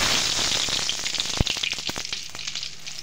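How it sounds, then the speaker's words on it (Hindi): Cumin seeds crackle and pop in hot cooking oil for a chicken masala, a steady close sizzle broken by scattered sharp snaps, with one loud pop near the middle. "जीरा हल्का तड़कने लगता है"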